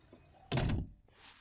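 Trunk lid of a VW Golf 5 being shut, one solid close thump lasting under half a second, with quiet background before and after.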